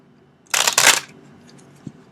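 A deck of tarot cards being shuffled in one quick riffling burst of papery flutter lasting about half a second, fairly close, followed by near quiet and a faint soft tap.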